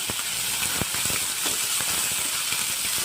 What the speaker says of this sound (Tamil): இது நல்லா வதக்கிடலாம். வெங்காயம் வதங்கட்டும்.